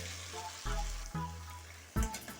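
Small turnip pieces frying with spices in a pan, a close sizzle broken by a few sudden stirring bursts that briefly swell the hiss.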